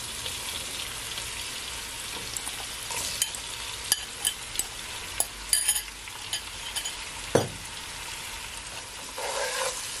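Seasoned salt fish frying in a pan on the stove, with a steady soft sizzle and several sharp clinks and scrapes from a utensil stirring it, heard close.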